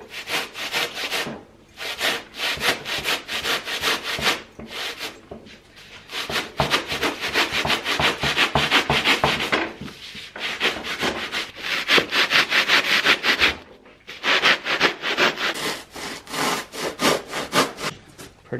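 Dried expanding foam being sawn through by hand, with steady back-and-forth rasping strokes up close and brief pauses between bursts of cutting.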